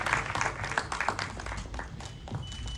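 Faint applause from an audience at a film event, a scattered patter of clapping with soft bursts, at low level throughout.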